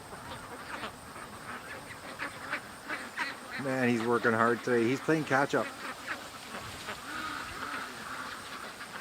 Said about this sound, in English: I look up and I see all the ducks coming back